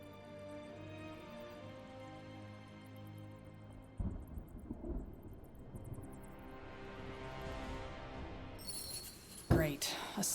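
A thunderstorm in the video game SpellForce 3 Reforced brings a rumbling swell of thunder over layered game music, then a sharp, loud thunderclap near the end.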